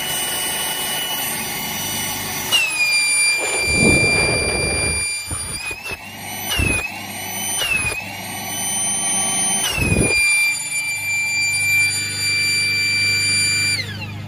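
A SKIL PWR CORE 20V cordless dual-function inflator (IF5940-00) runs as a blower, a loud steady whirring rush of air with a high motor whine that surges and dips in several short bursts.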